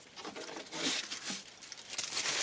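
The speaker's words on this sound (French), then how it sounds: "petit peu d'aluminium autour. Un papier d'aluminium autour." Aluminium foil crinkled and wrapped around a translucent plastic rooting box used for air layering a plant, a close, continuous crackling and rustling that lasts a couple of seconds.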